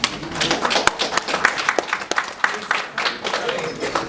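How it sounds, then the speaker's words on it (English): A small audience gives a round of applause for a performer named Ammo Pitch, uneven clapping with distinct individual claps scattered across a few seconds, while voices murmur and talk underneath. "So a round of applause for Ammo Pitch."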